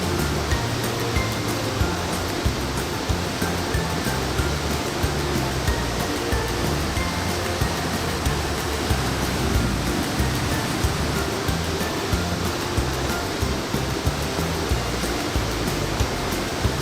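Nongkhnum waterfall in Meghalaya, a deep fall throwing up mist, heard as a dense, constant roar of rushing water that stays steady and loud from start to finish.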